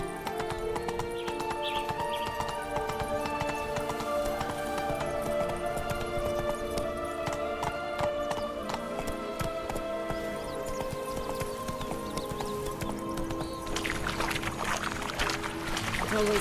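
Roach, the horse in The Witcher 3: Blood and Wine, gallops at a steady pounding clip-clop, hooves drumming continuously and close, with a game music bed and a voice briefly heard.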